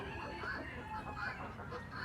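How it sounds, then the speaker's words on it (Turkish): Chickens and a rooster at a poultry farm in Samsun cluck and call in a steady stream of squawks, with people talking nearby throughout. "Bu şimdi tavukmuş karşımdaki."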